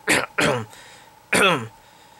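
Three sharp throat-clearing coughs, two in quick succession and one after a short pause, close and loud.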